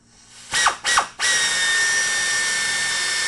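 A power drill revs in two short bursts, then bites in and runs continuously with a high, steady whine as it bores through a metal plate for nutplate installation.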